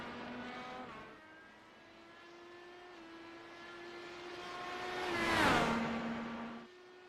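Mark 1 Indy car engine in a sim racing game at Watkins Glen, a steady droning whine with rising pitch, swelling as one car sweeps closely past with a quick pitch drop, then fading.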